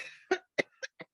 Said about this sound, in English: This is an old cough.